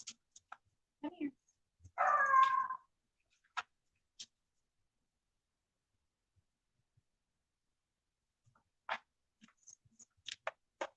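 A dog whimpers upstairs in a home, one drawn-out whine of a bit under a second, surrounded by faint scattered clicks and thumps in an otherwise quiet room.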